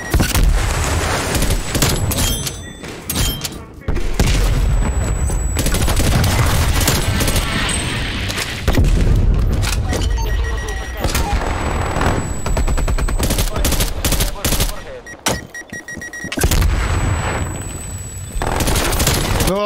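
Loud, rapid bursts of automatic fire from an AUG rifle in Call of Duty: Black Ops Cold War Warzone, repeating in close volleys with short pauses between, with booming impacts mixed in.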